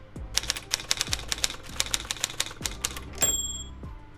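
Typewriter sound effect laid into an Edius 7 edit for a typed-text title: a steady run of crisp, close key strikes with a brighter bell-like ding near the end, no voice.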